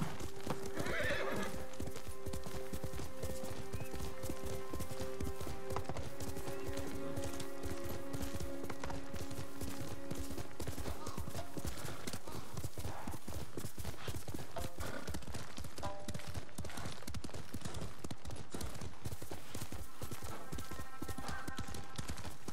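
A horse in Ghost of Tsushima gallops with rapid, rhythmic hoofbeats that run steadily throughout, with occasional whinnies and neighs rising over them.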